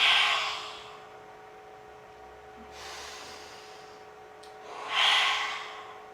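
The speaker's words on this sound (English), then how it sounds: "we're just going to start off by taking some deep breaths, really deep into the belly" Slow, deep breathing during a stress-relief exercise: three soft, airy inhale-exhale swells, near and fairly quiet, with long calm pauses between them and no talking.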